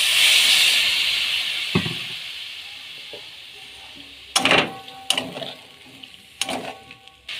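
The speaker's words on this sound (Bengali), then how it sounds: "এবার জল দেবো।" Water poured into a potato and soybean curry frying in a pan, a loud hissing rush of steam that fades, followed by scattered clinks and scrapes of stirring nearby.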